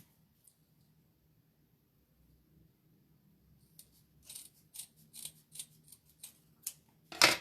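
Scissors snipping T-shirt fabric for a stuffed toy, after a quiet start, with a run of about eight crisp, close cuts in an uneven rhythm, the last one loudest.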